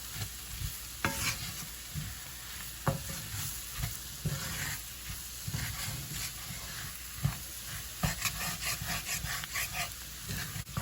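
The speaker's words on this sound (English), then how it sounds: "You want to let this cook in, and you just want to saute this for about 7 minutes." An onion, celery and pepper trinity seasoned with Creole seasoning sautés in a pan for crawfish étouffée, a steady close sizzle running throughout with repeated scraping stirs of a utensil knocking through it, no voices.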